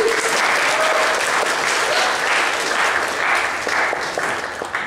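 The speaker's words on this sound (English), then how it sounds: "I know that all those applause are for her" Sustained audience applause fills the whole stretch at a steady, dense level, a full room clapping together for an anniversary couple, with a few faint voices mixed in underneath.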